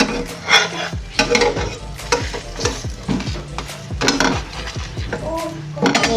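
A roll frying in a little oil in a pan, with sizzling and repeated stirring and scraping of a utensil against the pan throughout, close and fairly loud, with clinks of cookware.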